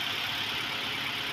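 Kia Rio engine idling smoothly after an ignition coil repair, a steady, even hum heard close up with no audible misfire or shaking.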